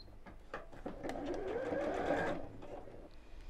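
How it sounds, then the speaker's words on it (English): Sewing machine stitching fabric lining for a circle pouch, a quiet close-up whirring run of about two seconds that rises and fades, with soft handling of fabric around it. "match the ends of the fabric here, and stitch those together."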